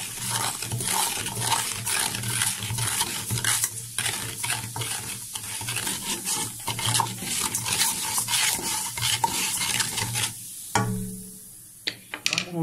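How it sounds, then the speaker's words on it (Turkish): A spoon stirs and scrapes inside a burnt cooking pot during a cleaning treatment, giving steady metallic scraping and clinking strokes with a bubbling, sizzling undertone, then a brief quieter pause and a few sharp clinks at the end. "Arkadaşlar bir kaşık yardımıyla güzelce mertelim."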